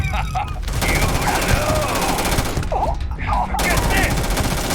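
Sustained gunfire crackles throughout a Starfield battle, dense overlapping shots forming a continuous loud fusillade, with voices shouting briefly amid the shooting.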